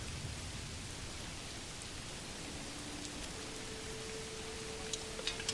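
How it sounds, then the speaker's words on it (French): Steady rain falls in the Manor Lords medieval village-building game, a constant even hiss of downpour with a few faint distant drips and soft tones, no voices. "En même temps c'est la pluie."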